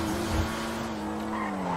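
Pariah or Itali GTO sports car in GTA Online doing a quick launch, tyres squealing in a sustained screech over a loud engine note, continuous and close for the whole stretch.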